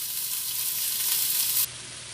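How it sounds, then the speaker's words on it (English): Beef sears in a hot pot with a loud, steady hiss of frying fat, continuous and close, easing slightly in level near the end. "So our meat's been searing for about 2 minutes now."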